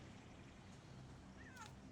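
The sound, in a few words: cat meowing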